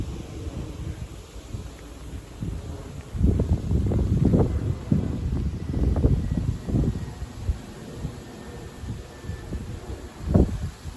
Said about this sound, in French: Le vent se renforce de plus en plus.